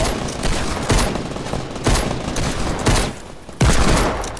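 Weapon fire in a Fortnite Creative castle assault mini-game, with dense rapid bursts of shots, loud and close, marked by several sharper blasts standing out from the constant rattle.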